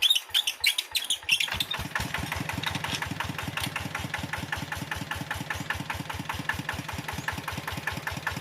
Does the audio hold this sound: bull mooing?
no